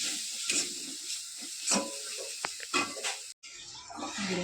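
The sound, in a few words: sautéing spices in a pan for koi fish curry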